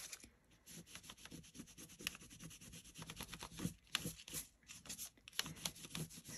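Paint layers being rubbed back on paper with a brown base coat beneath, a close, dry scratchy rubbing in quick repeated strokes that runs steadily throughout with no talk.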